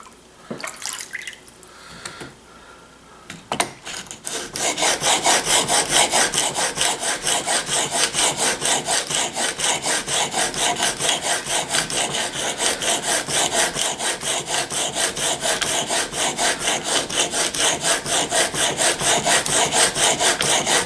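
Chisel rubbed on a wet sharpening stone to take off the burr: a few handling knocks and drips, then a long run of steady, rhythmic rasping strokes, close and loud, with no talk.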